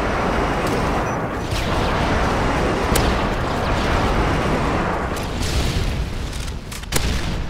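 Deep booming airstrike blasts in Modern Warfare 3 gameplay come as a continuous rumble dotted with sharp impacts and gunfire cracks, loud and close throughout.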